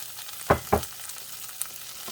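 Salted rice sautéing in a pan for a white rice dish, a quiet steady sizzle with two sharp stirring scrapes close together near the start and a faint tap later, no voices.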